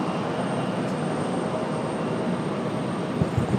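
A JetBlue jet airliner at RDU airport, a steady broad roar of engine noise that holds loud and even throughout, with a few low thumps near the end.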